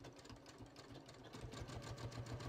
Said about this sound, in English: I'm just going to stitch really close to the folded edge here